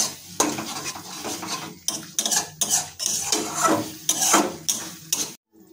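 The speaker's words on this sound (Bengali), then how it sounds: "3 টেবিল চামচ জল যোগ করে দেবো। আরো মিনিট 2 ধরে কষিয়ে নেব।" A spatula stirs and scrapes chicken and cauliflower in a wok after a little water is added, in a series of uneven scraping strokes with metallic clinks and no talk.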